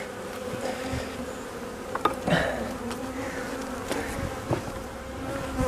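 Honeybees buzz on top of hive frames in an opened winter hive, a dense steady hum close by with a few louder passes of individual bees, no voices.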